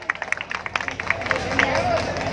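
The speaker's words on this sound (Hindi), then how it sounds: "जोरदार तालियों से इस्तकबाल करें" An audience applauding to welcome a speaker at a public gathering, a burst of uneven crowd clapping that swells and thickens over a couple of seconds, mixed with general crowd murmur.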